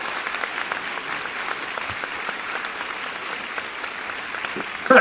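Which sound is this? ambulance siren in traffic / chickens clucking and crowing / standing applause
standing applause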